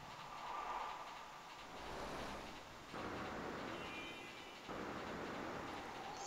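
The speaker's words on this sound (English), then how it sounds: "Look at those trains go past." Trains roll past in the train-simulation game A-Train 8, a faint, continuous rumbling wash with soft rail clatter that swells and fades in long sweeps, no voices.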